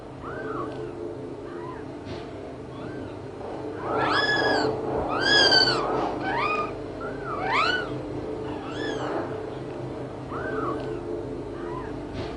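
Ten-day-old Angora kittens mewing repeatedly in high, rising cries, several overlapping at once and growing busier in the middle, close and clear over a low background hum, with no one talking.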